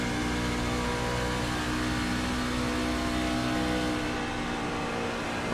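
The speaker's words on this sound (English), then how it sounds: "We're kind of revving pretty high." Simulated race car engine in iRacing's eNASCAR Road to Pro at Charlotte, holding a steady high-rev drone with strong harmonics throughout, loud and continuous with no talk.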